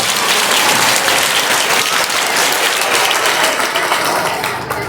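Loud, sustained applause from a large audience at a school event honouring children, dense clapping filling the whole stretch and easing slightly near the end.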